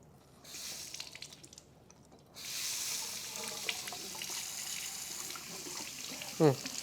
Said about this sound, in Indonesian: Baru habis itu kita bilas lagi.